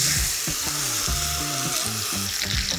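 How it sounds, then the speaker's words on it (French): A beef rib steak (côte à l'os, Blonde d'Aquitaine) sears in a hot pan with a steady, loud broadband sizzle and low clattering underneath, no voices. "Et on va la poser délicatement dans notre poêle chaude."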